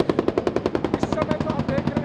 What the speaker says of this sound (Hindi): ये देखिए गोलियां चलने की लगातार आवाज।